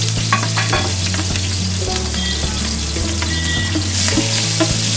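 Green chilies sauté lightly in hot oil for biryani, giving a loud, close, continuous sizzle and crackle with the occasional stirring scrape.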